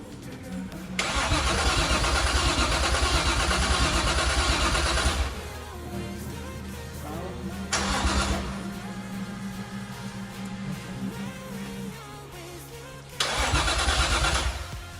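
Nissan Skyline R33 engine cranking on the starter in three separate attempts, each a loud, sustained whirring crank that stops abruptly, with quieter gaps between tries.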